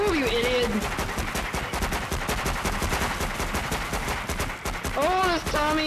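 Rapid Tommy gun bursts rattle in the video game After The Fall, a dense run of automatic fire with excited voices talking over the start and end.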